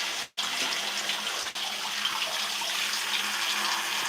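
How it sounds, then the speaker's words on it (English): Water runs steadily over hair as conditioner is rinsed out, a continuous close hissing rush broken by two brief dips where the flow is interrupted. "I'm able to rinse the majority of the conditioner out."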